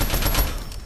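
A brief, loud burst of rapid gunfire in Fortnite, close-up and lasting under a second.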